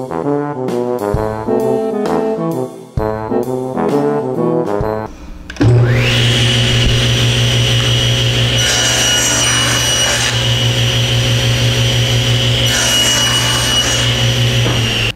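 After a few seconds of other sound, a bandsaw starts up and cuts a cherry and walnut wood blank for a wooden top, running as a loud, continuous whine with a steady hum.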